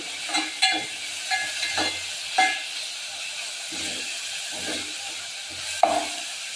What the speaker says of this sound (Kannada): ಇವಾಗ ಈರುಳ್ಳಿ ಹಾಕಿ ಫ್ರೈ ಮಾಡ್ತಾ ಇದ್ದೀನಿ.